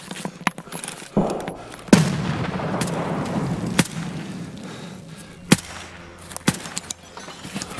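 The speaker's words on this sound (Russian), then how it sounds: "Граната. Еще граната." Grenade blasts in Escape from Tarkov, several sharp booms and cracks spaced a few seconds apart over a low rumbling background, fairly close and loud with no voices.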